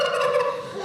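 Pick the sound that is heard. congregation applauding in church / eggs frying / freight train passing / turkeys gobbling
turkeys gobbling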